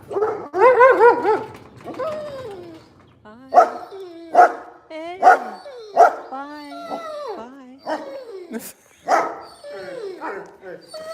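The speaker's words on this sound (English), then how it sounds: "Hey, see a little doggy?" A small dog barks and yips in a series of sharp, close barks spaced a second or so apart, mixed with whimpering, while people talk and greet it nearby.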